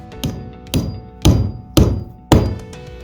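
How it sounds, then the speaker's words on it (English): A hammer driving a reused nail into wood wall framing: five sharp, ringing blows spaced about half a second apart, close and loud, each with a brief resonant tail. "You can see Caleb driving in a nail that we had taken out at an earlier time."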